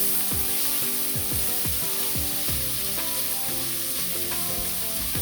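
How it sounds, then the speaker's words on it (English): A bouillon cube and onion sauté in a pot with a strong, steady sizzle, while a utensil stirs and scrapes in a regular rhythm throughout, close and loud. "So I'm gonna saute the bouillon cube to soften out into the stir here."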